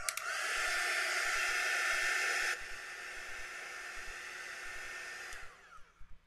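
A hair dryer blows on a watercolor painting, a close, steady whooshing hiss that drops to a lower setting partway through, then cuts off and winds down, followed by faint taps.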